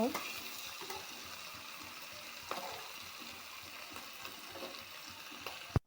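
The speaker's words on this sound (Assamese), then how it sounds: "যিমান মানে ভাজি থাকিম সিমান তেল ওলাই থাকিব ইয়াৰ পৰা।" Food fries in hot oil with a continuous close sizzle and crackle, stirred now and then with light scrapes, ending in a sharp clatter.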